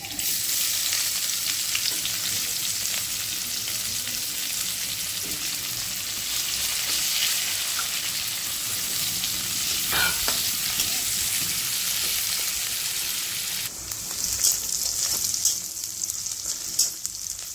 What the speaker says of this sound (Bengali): তেল গরম করে সেই তেলেই আমি জিরে দিয়ে দিচ্ছি, তেজপাতা, একটা এলাচ, লবঙ্গ, দারচিনি।